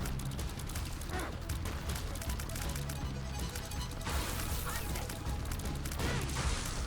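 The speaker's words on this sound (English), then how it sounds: "I just bombed myself." Explosive bursts from a bomb going off in The Binding of Isaac: Repentance, loud and dense with crashing, crackling blasts that swell twice across the stretch over steady game noise.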